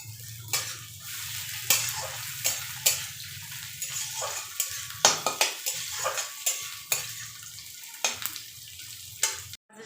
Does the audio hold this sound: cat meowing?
no